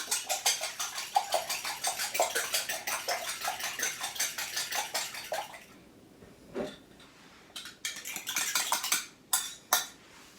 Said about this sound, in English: Here I go, beating up those eggs again.